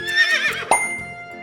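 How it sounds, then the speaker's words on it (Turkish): A horse whinnies with a quavering, high call that tapers off, followed by a single sharp knock and a lingering tonal background. "At."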